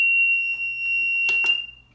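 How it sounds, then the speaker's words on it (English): An Arduino intrusion alarm triggered by a blocked ultrasonic sensor emits a continuous high-pitched electronic tone, loud and close, interrupted near the end by two short clicks before it fades. "a system that when the ultrasonic sensor is blocked, an alarm goes off"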